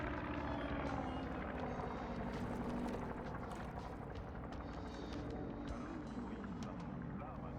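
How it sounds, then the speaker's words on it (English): A loud aircraft passing overhead, a dense continuous roar with rhythmic rotor-like pulsing that fills the whole stretch, swelling slightly then holding steady, with a voice faintly beneath it. "The aircraft."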